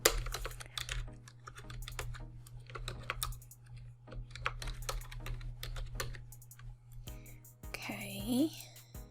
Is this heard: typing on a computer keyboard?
yes